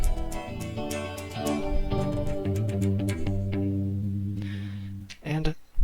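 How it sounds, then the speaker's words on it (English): An electric guitar plugged in and played live in a jam session, strummed and picked notes ringing close and steady for several seconds before a short burst of scratchy strums at the end. "I have my guitar plugged in, so we should be able to hear my guitar right now."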